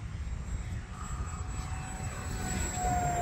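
An E-flite F4U-4 Corsair 1.2m RC model plane flies past, its electric motor making a steady whine over rumbling wind noise that grows louder toward the end.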